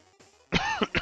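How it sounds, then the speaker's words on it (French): A man coughs hoarsely a couple of times in quick succession, close to the microphone, after a faint throat sound. "Voyez que je tousse encore, hein, que j'ai encore de la toux."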